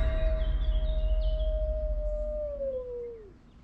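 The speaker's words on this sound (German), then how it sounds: "Das war doch ein Wolf, oder nicht?" A dog or wolf howls in one long, sustained, gently falling tone that fades out near the end, heard clearly over steady outdoor background noise beside a cycle route along the Oder-Neisse river.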